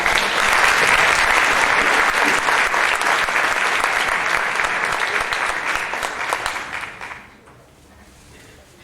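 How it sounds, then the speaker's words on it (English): Audience applause at a UCSB Middle East Ensemble fall concert, a dense, loud roomful of clapping that holds steady, then thins and tapers off near the end. "please give Chris a huge round of applause for this composition"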